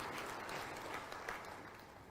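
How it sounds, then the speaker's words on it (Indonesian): Audience applause at an Islamic religious lecture in Jambi province, a steady dense wash of clapping from a large crowd, fairly distant and even, with no talking over it. "Sekali lagi boleh berikan tepuk tangan yang meriah untuk narasumber kita pada hari ini."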